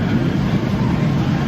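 The Raging Bull roller coaster train at Six Flags Great America rumbling along its track, a dense low roar with rattling wheels, close and fairly loud for a brief moment.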